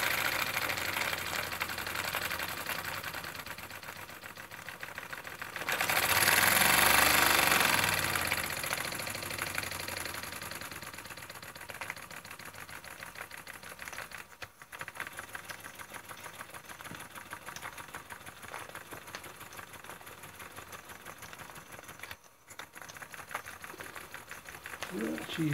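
A Jensen 55G toy steam engine fitted with a faux governor and modified generator runs steadily close by, giving a continuous mechanical whir and rapid chuffing, with a louder hissing burst partway through and speech over it.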